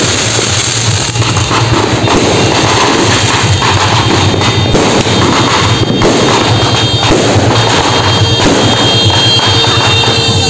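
New Year 2025 fireworks bursting continuously at close range, loud overlapping booms and crackles with no pause, a dense barrage throughout.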